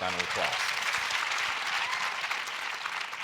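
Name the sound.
round of applause for guests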